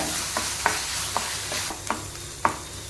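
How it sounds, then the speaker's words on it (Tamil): Ginger garlic paste sautéing with onions in a pan, a steady low sizzle under soft scraping stirs that land at irregular intervals, close and alone. "இந்த இஞ்சி பூண்டு பேஸ்ட்டோட ராஸ்மல் போகிற அளவுக்கு நல்லா நீங்கள் ஃபைனாக வதக்கிக்கோங்க"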